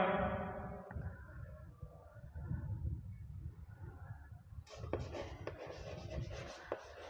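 Notes being written by hand during a chemistry lesson on atomic structure, with close, steady scratching of a pen on paper and a brighter burst of scribbling near the end.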